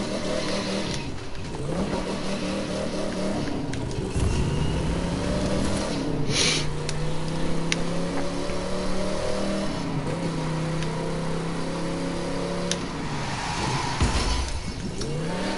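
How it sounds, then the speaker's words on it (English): A classic muscle car in The Crew 2, running with no brakes, revs and accelerates continuously for the whole stretch, its mid-pitched engine note rising and falling through gear changes, loud and close with no talk over it. "Drive 31 miles in a classic muscle car"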